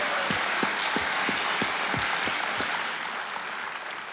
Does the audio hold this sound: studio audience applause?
yes